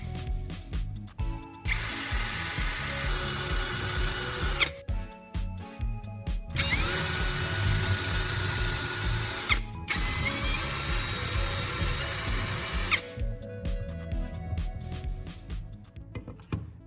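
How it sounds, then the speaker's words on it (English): A power drill bores four holes in a small L-shaped steel bar, with loud sustained whirring bursts broken by short pauses and ratcheting clicks, close and steady, with no talk. "Drill 4 holes at the marked points with steady pressure"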